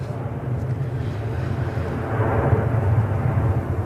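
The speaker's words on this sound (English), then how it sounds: "Next out is the SAS A320 Neo going back to Oslo." An SAS Airbus A320neo jet departs Manchester Airport. Its engines make a continuous low rumble that swells slightly toward the end.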